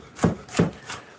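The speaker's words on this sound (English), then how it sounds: "So we're gonna julienne these." A knife julienning vegetables on a cutting board makes three crisp, close chopping taps spaced about a third of a second apart, the last one softer, with no talking.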